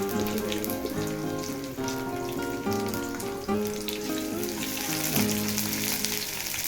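Soybean oil sizzles and crackles steadily in a frying pan beneath a continuous layer of background music with sustained tones.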